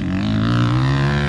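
A dirt motorcycle revs in an open-pit mine, its engine making a loud, close, steady drone with strong humming harmonics over a brief moment.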